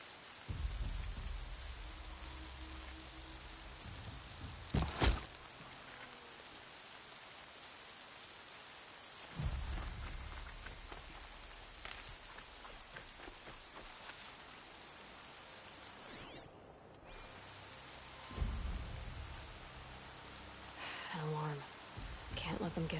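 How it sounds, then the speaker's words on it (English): Steady rain pours in the Horizon Zero Dawn game world, punctuated by several deep rolls of thunder at intervals, with brief scattered voices heard. "It's so fucking rainy."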